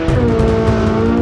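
A 2023 Chevrolet Corvette Z06 launches hard with a loud, steady engine roar and tire squeal, close and continuous for a brief moment with no talk.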